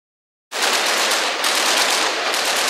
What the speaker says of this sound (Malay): Askar-askar Iraq kelihatan menembak sebuah drone yang sedang terbang dan menggugurkan bahan letupan kecil di kejiranan Al-Barid.